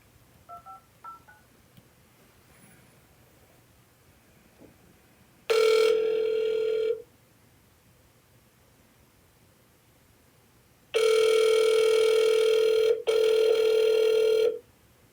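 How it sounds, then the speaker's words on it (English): Bursts of telephone keypad dialing tones followed by steady ringback tones from an outgoing phone call, loud and clear in otherwise quiet surroundings with no talking. "Let's just go ahead and call good old Tom and see what's going on."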